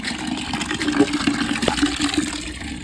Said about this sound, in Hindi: इसमें थोड़ा पानी घेर दो।